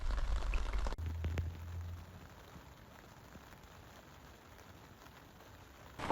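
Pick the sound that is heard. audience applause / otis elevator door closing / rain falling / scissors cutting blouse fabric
rain falling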